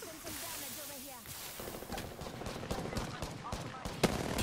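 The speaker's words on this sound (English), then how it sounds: "There's tons of shots above us." Video game gunfire, many shots crackling overhead in a ranked match, rapid irregular bursts and scattered single pops over steady background game noise, fairly faint, with brief voices mixed in.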